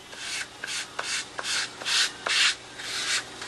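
Sanding block rubbed back and forth over wooden ribs in a woodworking shop, about eight steady rasping strokes in an even rhythm, close and fairly loud with no talking.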